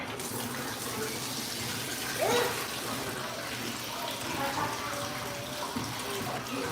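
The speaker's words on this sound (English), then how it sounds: "Oh, you just washing your hands?" A tap runs steadily while hands are washed in a bathroom, a constant close rush of water with a brief splash partway through.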